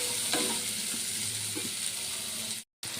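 Onion pieces sizzle in hot oil in a pan, a loud steady frying hiss with a few soft stirring clatters, cut off by a brief dropout near the end.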